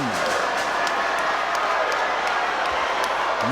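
A large boxing crowd roars continuously right after a first-round knockout, a dense, loud wall of cheering and shouting that stays level throughout.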